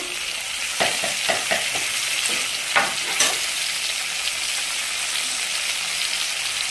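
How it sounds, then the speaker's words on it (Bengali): Tomatoes frying in a pan for a vegetarian bean curry, a steady loud sizzle with a few sharp scraping stir strokes near the start, no talking. "এইবার টমেটো দিয়ে দেবো। এই যে টমেটোগুলো আছে, টমেটোগুলো দিয়ে দেবো।"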